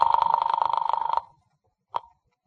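A telephone rings in a radio-drama scene: a long continuous electric bell burst for about a second, then a short single ring after a pause, loud and close with no talk over it.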